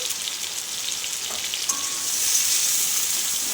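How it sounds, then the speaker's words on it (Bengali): Vegetables for a Malabar spinach and prawn curry sizzle steadily in a pan as turmeric is stirred in, a continuous close frying hiss with a few soft scrape-like stirring touches and no talking. "অল্প করে হলুদ দিয়ে একটু নেড়ে নিচ্ছি"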